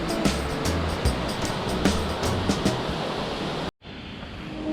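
A 100-metre waterfall on the Caldeirão Verde levada in Madeira pours as a steady broadband roar nearby, a constant wash with a few faint clicks, cutting out abruptly near the end.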